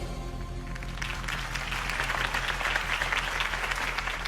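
Steady, dense applause from a large crowd fills the room, swelling after a moment and continuing without pause.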